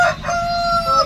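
A white fighting cock, one of three birds kept for Sankranti cockfights, crows in a single sustained call that fills the short moment, close and fairly loud with no voices over it.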